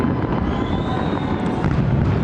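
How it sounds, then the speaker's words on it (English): New Year's Eve fireworks heard from afar during a live celebration broadcast, a continuous rumbling wash of distant booms and crackle with a faint whistle rising through it, no clear individual bangs. "we're hearing the fireworks right now"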